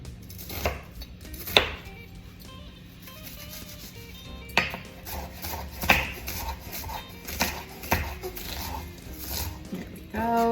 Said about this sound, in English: here I have some habanero peppers that I'm also gonna cut up maybe about 1/3 of each